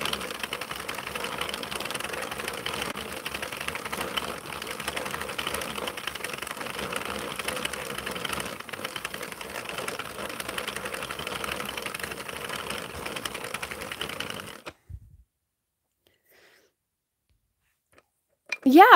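A 32-pin Mushroom House hand-cranked knitting machine knits a yarn scarf with a steady clattering whir for about fifteen seconds, then stops abruptly and goes quiet.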